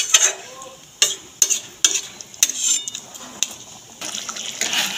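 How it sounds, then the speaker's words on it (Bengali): A spatula stirs spice masala in a frying pan for a jackfruit and prawn curry, cooked dry with little water. Sharp scraping strokes come close and loud, about every half second to second, over a soft sizzle, with no talk. "একটু নাড়িয়ে নেব, খুব একটা জল দেবো না, যেহেতু একদম কষা কষা করবো বলে।"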